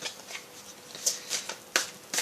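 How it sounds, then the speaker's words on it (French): Tarot cards being shuffled by hand: a close series of crisp riffling bursts, five or six in quick succession, with nothing else underneath. "Je vais brasser un peu plus."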